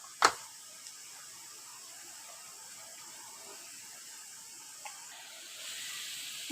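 Cumin seeds sizzle in hot oil with bay leaves for a dhaba-style dal tadka: a faint, steady hiss, with a sharp tap at the start and a brief rise in the sizzle near the end.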